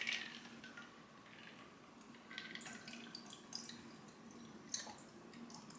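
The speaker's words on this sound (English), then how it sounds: "now pour it into your prepared glass with ice." A cocktail is poured into a prepared glass over ice, with soft liquid dripping and splashing, faint and close, with a few small clinks and no talking.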